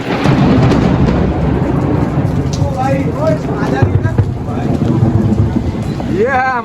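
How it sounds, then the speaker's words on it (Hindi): Heavy rain pours down steadily on a hostel rooftop terrace during a thunderstorm, with loud continuous hiss and deep rolling thunder rumbles, while a voice is faintly heard in the background. "और ये बारिश इतनी तेज हो रही"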